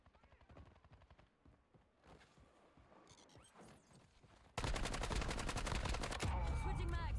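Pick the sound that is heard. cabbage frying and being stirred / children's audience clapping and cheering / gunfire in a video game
gunfire in a video game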